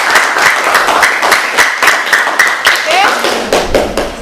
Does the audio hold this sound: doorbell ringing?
no